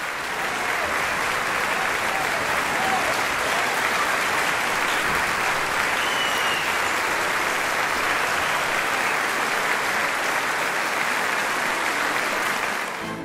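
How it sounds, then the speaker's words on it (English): A concert audience at a Christmas program led by Maestro John Jeter bursts into loud, dense applause that holds steady and sustained for the whole stretch, close and full. "there were frequent bursts of applause throughout the program"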